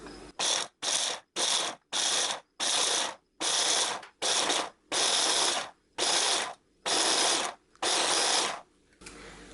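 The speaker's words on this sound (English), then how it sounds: "because I want my garlic scapes to end up being really small, I'm going to use my food processor." Food processor pulsing as it chops garlic scapes into small pieces: about a dozen loud, close bursts of whirring motor and blade rattle separated by short silences, with no talking.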